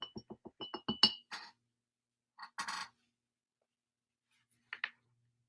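A paintbrush rinsed in a glass of water while painting a beach sunset, heard as a quick run of small glassy clinks and taps, then a couple of brief swishing scrapes and one last faint tap, alone with no voices.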